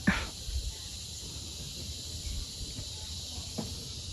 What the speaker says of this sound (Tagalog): naririnig ko yung huni ng kuliglig.